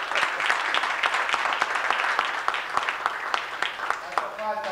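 Guests applauding at a New Year's Eve gathering at the Argentine Embassy in Beijing, steady moderate clapping from a room of people, with voices mixed in and a brief tonal sound near the end.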